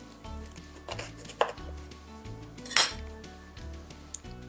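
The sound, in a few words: knife cutting off pumpkin stem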